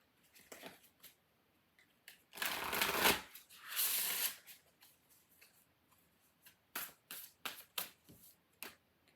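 Spellcasting oracle cards being shuffled in two long, loud riffling bursts, followed by a run of quick, lighter card flicks and taps, close and with no talk.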